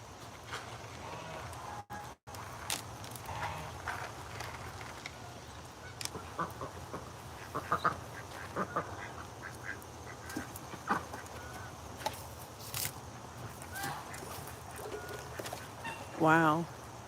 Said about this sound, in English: They're all coming now. Ducks and the geese.